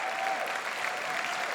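Steady audience applause fills a comedy show venue, a dense even wash of clapping from a large crowd with no pauses across the short stretch.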